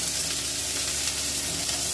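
Chopped chui jhal stems frying in hot oil in a pan, a bright, dense, even sizzle heard close up and without pause, no voices.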